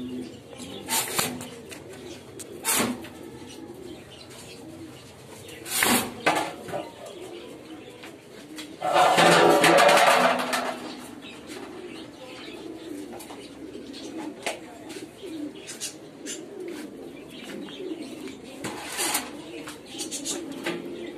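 Pigeons on a farm keeping domestic and foreign breeds coo in a steady low murmur, with scattered clatters and a louder burst of noise partway through.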